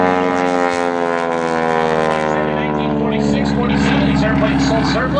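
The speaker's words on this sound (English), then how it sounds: "Now as he dives down, does a nice quarter roll" Aerobatic airplane at an air show diving and rolling, its engine droning steadily and loudly with shifting pitch throughout, while a commentator talks over it.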